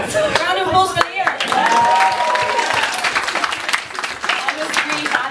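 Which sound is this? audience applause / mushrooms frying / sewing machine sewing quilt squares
audience applause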